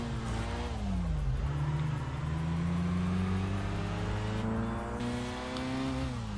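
A race car engine in the video game Tokyo Xtreme Racer Drift 2 drones steadily at high revs, pitch dipping then climbing again, loud and continuous, as if held in one gear.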